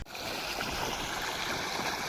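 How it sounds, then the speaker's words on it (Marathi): Water streaming onto garden plants at night: a steady, close rushing hiss that holds evenly throughout, with no voices. "आम्ही चाललोय रोपाला पाणी द्यायला"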